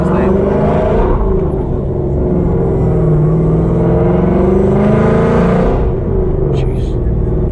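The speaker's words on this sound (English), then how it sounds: "That blower sounds insane." Supercharged 800 rwhp Ford Mustang S550 engine rumbling and revving loudly throughout, a deep continuous roar that swells and eases, with people talking over it.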